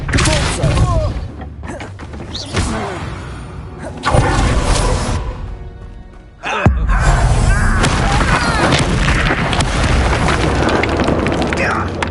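Spell-casting effects in a wizard video game: loud booming blasts and whooshing bursts, one big impact near the middle and another swelling surge later, with in-game voices speaking over the effects.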